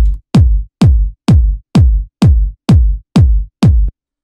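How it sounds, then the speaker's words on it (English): A fat 909 kick drum for a deep minimal micro house track thumps nine times in a steady, evenly spaced pattern, each hit punchy with a short booming tail and nothing else playing. "It's just like a very fat 909 kick."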